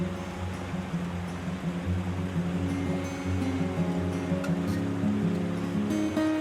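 Mountain stream beside a hiking trail in the Beaufortain, Savoie, rushing in a steady, dense wash of water that stays close and even throughout, with no voices.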